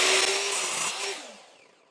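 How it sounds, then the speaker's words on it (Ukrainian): A power saw cuts through a wooden picture frame blank at a 45-degree angle, giving a loud, bright whine that fades as the blade winds down over about two seconds, with no voices. "Повертаєш пилу в другий бік і відрізаєш."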